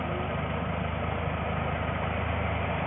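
A car engine idling steadily with the electric cooling fans running, a constant low droning hum that stays even and loud throughout.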